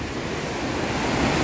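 The swift Citarik river flows beneath a bamboo bridge in a plantation area, making a steady, full rushing wash of water with no voices.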